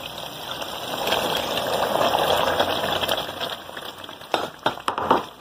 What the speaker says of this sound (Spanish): Voy a agregar a esta preparación caldo.